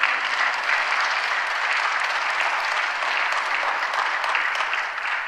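Steady, dense clapping from a church congregation during a Sunday service fills the room evenly from start to finish, with no voices rising above it.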